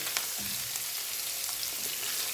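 Bitter gourd (karela) fries in a pan over medium-low heat, a soft steady sizzle with faint crackles and a light stirring scrape, quiet and without speech.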